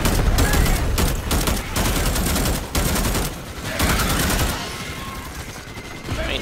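Weapons fire rapidly in the Starship Troopers Extermination video game, with loud, dense automatic bursts that keep going with short gaps and then ease into quieter shots and sounds of the fight.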